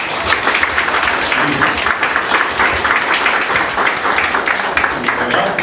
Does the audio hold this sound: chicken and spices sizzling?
no